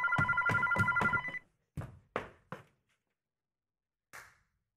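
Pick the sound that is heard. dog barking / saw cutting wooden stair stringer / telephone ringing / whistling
telephone ringing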